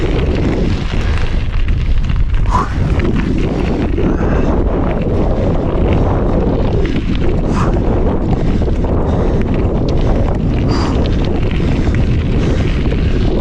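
Strong mountain wind during a bicycle climb toward 2248 m, a loud, constant roar buffeting the microphone with gusty surges and no pause for the full stretch.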